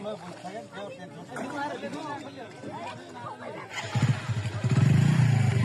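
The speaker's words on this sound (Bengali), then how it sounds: "যদিও এটা ইঞ্জিন চালিত নৌকা।" An engine-driven boat pulls away from a riverside landing in the late afternoon. Voices talk at first, then a low, rumbling motor swells and runs steadily, growing louder toward the end.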